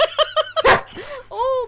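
A pet dog barks several times in quick succession indoors, loud and close, followed by a brief burst of noise and a whining, yelping call, with no talk over it.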